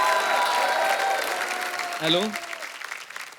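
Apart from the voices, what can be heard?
audience applause for guests on a comedy show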